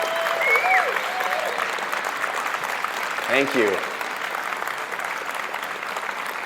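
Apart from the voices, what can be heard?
audience applause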